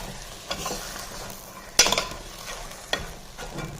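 Raw ground masala being stirred into a hyacinth bean curry in a pan, soft scraping stirs with a few sharper clacks of the spoon over a quiet sizzle.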